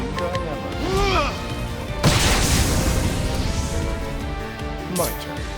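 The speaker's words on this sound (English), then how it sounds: "Fire cannon." A fire cannon spell attack in the Octopath Traveler video game bursts in with a loud crashing boom and a roaring fiery rush that fills several seconds, while a character's voice speaks over the battle effects.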